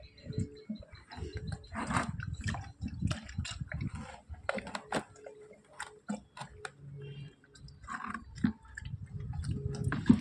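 A cow drinks rice gruel water at a home, giving wet slurping and lapping clicks in irregular runs, fairly close and soft, with a person's voice occasionally in the background.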